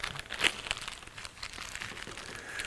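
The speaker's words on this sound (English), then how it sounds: "let's get out the handy razor blade and just cut through the plastic here" A razor blade slices through plastic packaging on a GearWrench metric wrench set, producing close crinkling and crackling of stiff plastic with a brief sharper snap near the start, without talk.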